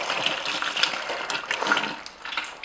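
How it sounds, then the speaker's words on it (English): Hands are washed under a running kitchen tap, water splashing and gushing steadily and close with small irregular surges. "And now I'm going to wash my hands."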